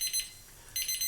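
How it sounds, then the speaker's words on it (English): A kitchen alarm chirps in two quick bursts of rapid high beeps, separated by a short pause, faint and alone, while a brown sugar glaze is being microwaved. "That's my alarm."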